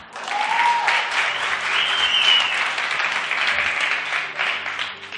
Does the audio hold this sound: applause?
yes